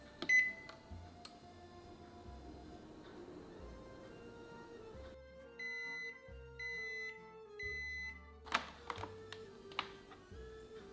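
A rice cooker is set to its rice setting and starts cooking, giving a few soft electronic beeps and steady tonal hums in a quiet kitchen, with scattered faint clicks and no voices.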